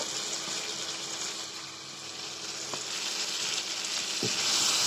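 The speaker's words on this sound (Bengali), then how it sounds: "আমি এইভাবে নেড়ে নেড়ে দশ মিনিট মতো কষাবো" Chicken pieces for a potato chicken curry being stirred and seared in a pan, giving a steady close sizzle with a faint knock of the spoon near the end.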